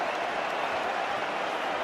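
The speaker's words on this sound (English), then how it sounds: "Well, the crowd jeering Tom Vandel there." A rugby crowd jeers during the 2006 Premiership final between Sale and Leicester, a steady, dense roar of stadium voices and noise that holds unbroken and loud throughout.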